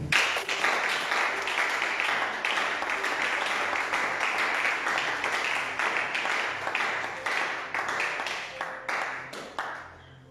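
A church congregation applauds the Lord during a French-language sermon, a dense, steady wash of many hands clapping that holds for about ten seconds before tapering off slightly at the end.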